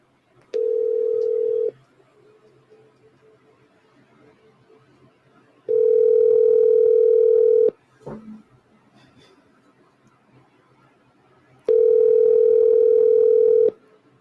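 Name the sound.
telephone ringing tone while placing a call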